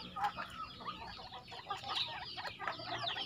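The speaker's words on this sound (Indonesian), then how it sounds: "Ini burung roak-roak" A white-breasted waterhen gives a rapid series of harsh, repeated croaking calls, fairly close and continuous throughout.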